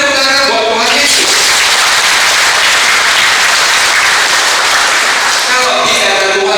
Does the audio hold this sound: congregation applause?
yes